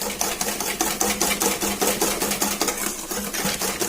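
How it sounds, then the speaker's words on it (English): A whisk beats scone batter for cardamom lemon drop scones in a bowl, making a fast steady rhythmic clatter, close and loud, with no talking. "just continue whisking"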